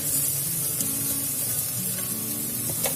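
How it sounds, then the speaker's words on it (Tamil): Flattened rice (aval) dry-roasting over medium flame in a pan gives a steady close hiss and crackle, with faint scraping of stirring running throughout. "ஃபர்ஸ்ட் வந்து நம்ம அவல் வந்து நல்லா வறுத்துக்கலாம்."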